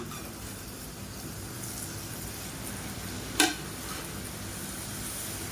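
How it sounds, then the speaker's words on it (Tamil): Instant murukku frying in hot oil for a Diwali snack, a steady low bubbling sizzle that runs throughout, with one sharp brief click partway through. "எண்ணெய் சுட்டு எடுக்கிற வரைக்கும் எண்ணெயோட ஹீட் வந்து குறைக்கவும் கூடாது கூட்டவும் செய்யக்கூடாது"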